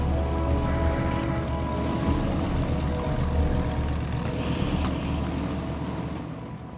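Loud, continuous drone of a B-25 bomber's piston propeller engines running close by, a rough throbbing roar that holds steady and eases slightly toward the end.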